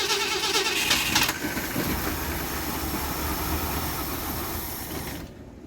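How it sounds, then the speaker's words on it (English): A revived Mercury outboard engine runs steadily up close, giving a loud, continuous mechanical rattle and buzz that holds for several seconds before cutting off abruptly at the end. "the engine sounds really good"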